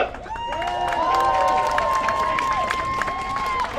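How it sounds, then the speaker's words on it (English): A crowd at a workers' rally outside a community center claps and cheers, a fairly close, sustained wash of applause with raised voices and a siren-like wailing tone running through it. "Let's give them a applause."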